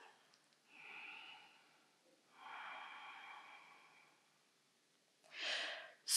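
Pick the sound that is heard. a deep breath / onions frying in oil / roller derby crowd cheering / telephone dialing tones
a deep breath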